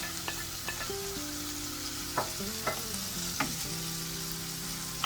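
Mutton keema frying with spices in a pan, a steady close sizzle broken by several sharp scraping stirs of a spoon against the pan, with no voices.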